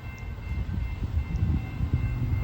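An intermodal freight train carrying semi-trailers rumbles along a Kentucky rail line, a low, steady rolling drone with faint irregular thumps from the cars.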